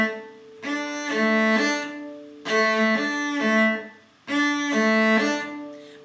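Cello phrase of three bowed notes that cuts off abruptly, repeated three times with short gaps of silence between, clear and close.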